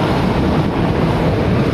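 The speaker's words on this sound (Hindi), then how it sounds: "ये देखिए लहरें कितनी भयानक लहर" Dangerous ocean waves crashing on a shore: a dense, steady roar of surf with strong wind rush buffeting the microphone, loud and continuous with no voices.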